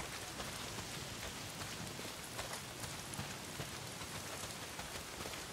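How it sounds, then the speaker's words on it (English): Steady rainfall in the Days Gone video game, a dense, even hiss of drops with faint pattering detail, constant and quiet with no voices. "not if it's pissing down rain"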